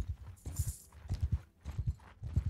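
Horses gallop in Mount and Blade 2 Bannerlord with the Realm of Thrones mod, steady rhythmic hoofbeat clusters repeating about every half second, moderately loud, with a brief high scrape near the start and no talk.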